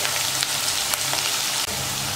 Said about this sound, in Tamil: இப்போ 5 நிமிஷம் நல்லா வதக்கிடும்